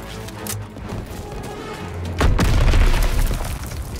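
An explosive charge detonates in Call of Duty: WWII with a deep, heavy boom midway through, its rumble swelling and lingering over surrounding battle noise.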